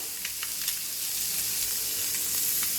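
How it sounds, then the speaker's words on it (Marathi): Fish shallow-frying in a pan with little oil gives off a steady, even hiss with light crackles, close by and without talk. "असंच आपल्याला ते फ्राय करून घ्यायचं आहे"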